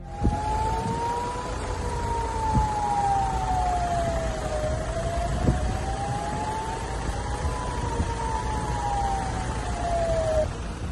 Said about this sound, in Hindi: इन रॉकेट हमलों के बाद इसराइल के बड़े इलाकों में चेतावनी वाले सायरन भी सुनाई दिए हैं।